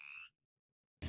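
A single frog croaks in a brief, nearly tonal burst, followed by silence and then a sudden loud noisy burst at the end.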